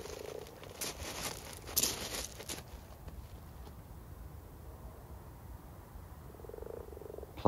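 Male common frogs croak in a low, steady chorus outdoors in a pond, with a few louder rattling calls early on.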